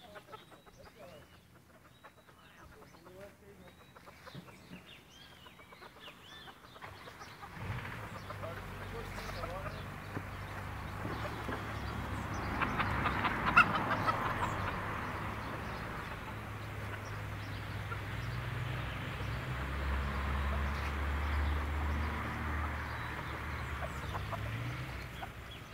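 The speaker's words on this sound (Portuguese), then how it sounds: "A galinha que bonitinha, pintadinha." White bantam chickens cluck and murmur softly through a steady farmyard background, while a person talks in Portuguese for much of the time.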